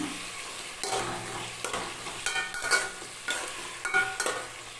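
Potatoes and tomatoes for a chickpea kurma are sautéed in a pan, a quiet sizzle broken by regular scraping stirs of a ladle against the pan, up close and with no talking.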